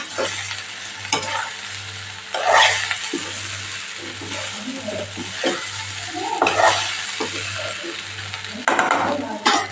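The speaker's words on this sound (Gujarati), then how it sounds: "લીલા ધાણા ઉમેરી દઈશું હળવા હાથે આપણે ઢોકળાને મિક્સ કરી લઈશું" Lemon dhokla being gently mixed with fresh coriander in a pan, with soft scraping and stirring strokes over a low sizzle and intermittent clinks of a spoon against the pan.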